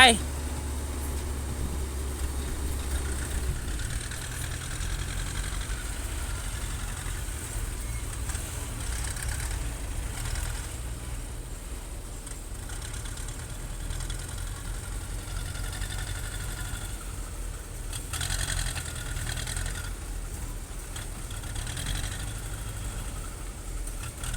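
Low, steady rumble of a Hitachi ZX130 excavator's heavy diesel engine idling, with someone talking over it now and then.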